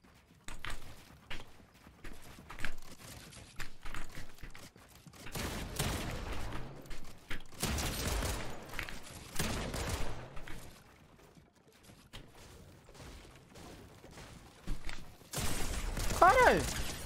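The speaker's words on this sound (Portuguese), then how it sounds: "Muito tiro." Rapid gunfire crackles through a Fortnite box fight, dense bursts of shots and building sounds swelling and fading over several stretches, with players talking excitedly over the game audio.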